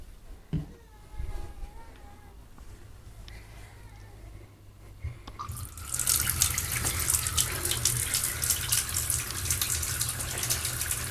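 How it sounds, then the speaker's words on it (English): A tap turns on and runs steadily, gushing water into a baby bath, the loud continuous rush beginning a few seconds in after some quiet handling clicks and brief speech. "I'm now going to run him a bath."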